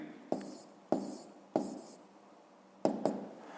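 Numbers written out by hand for a fifth-grade math exercise, heard as about five short, scratchy strokes in separate bursts with pauses between them, close and clear with no talking.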